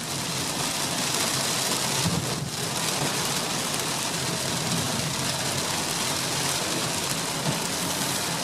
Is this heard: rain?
yes